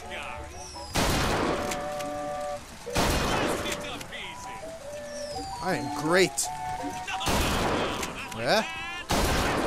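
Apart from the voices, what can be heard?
gunfire at a carnival shooting gallery in the video game BioShock Infinite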